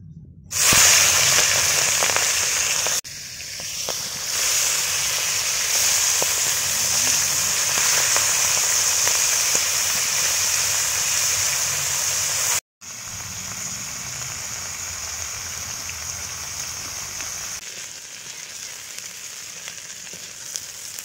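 River prawns frying in a pan in a village kitchen, a loud hissing sizzle that bursts up as they go in and then settles into a steady crackle, no voices.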